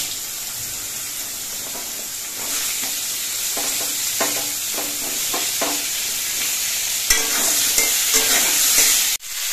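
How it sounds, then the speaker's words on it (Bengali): Potato pieces and vegetable stems go into hot oil with nigella seeds and slit green chillies, giving a loud continuous sizzle broken by rhythmic spatula scrapes and a sharp burst of crackling near the end. "কাঁচা লঙ্কাটা ভাজা হয়ে যাওয়ার পর এর মধ্যে আলু আর ডাঁটাগুলো দিয়ে দিচ্ছি"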